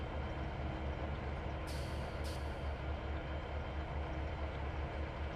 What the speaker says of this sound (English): Releasing handbrake